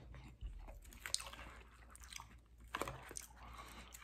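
Close, wet chewing of Sonic cheesy tots, with soft crunchy bites and squishy mastication in irregular bursts, fairly quiet with no talking.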